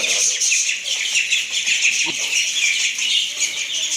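Close chickens cluck and chicks cheep constantly, a busy overlapping chorus of a flock that never lets up.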